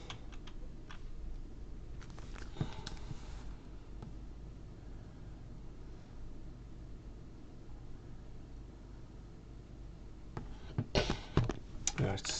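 Scattered keyboard clicks and taps from a computer keyboard, close but soft, sit over a steady background hiss, with a denser burst of keystrokes near the end.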